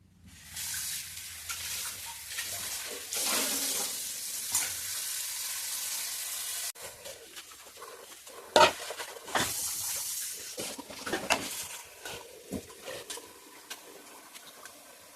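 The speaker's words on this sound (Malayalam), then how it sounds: "അപ്പോൾ നമുക്കിത് കഴുകിയെടുക്കാം." Prawns are washed in water in a large bowl, with uneven bursts of splashing and sloshing, loud at times, then quieter handling sounds toward the end.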